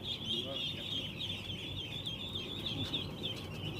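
Domestic ducks on a farm during vaccination give a steady, dense chorus of quacking and clucking calls, continuous and fairly faint, with a constant high hiss running under the flock throughout.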